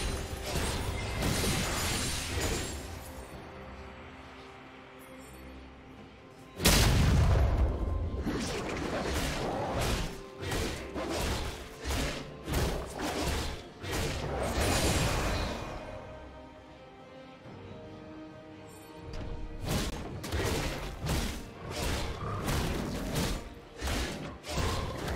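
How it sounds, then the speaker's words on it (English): A turret crumbles under attack in League of Legends during a top-lane Tryndamere versus Akshan match, a heavy crashing impact landing amid dense, continuous combat effects of rapid hits and swishes. "Blue team's turret has been destroyed."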